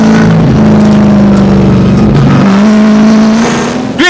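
Stock cars race around Warnerton Raceway, their engines a loud, sustained roar with shifting pitch as they pass close by, one engine note dropping away near the end.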